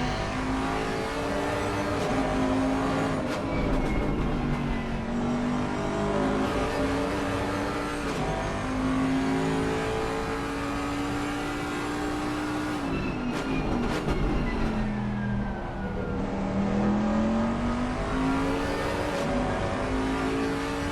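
Bentley GT3 race car engine in a racing video game at Valencia, loud and continuous, its pitch rising and falling through gear changes for the whole stretch, with no talk over it.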